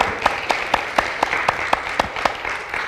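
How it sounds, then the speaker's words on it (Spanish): Clapping from a church congregation at a Spanish-language service, a broad wash of applause with a few sharp, evenly spaced claps standing out in a steady rhythm, moderately loud and without speech. "¿Por qué no das fuerte el aplauso al Señor?"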